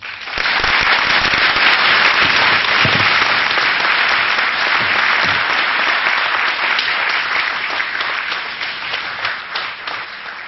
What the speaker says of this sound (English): Let's give another round of applause to Mike,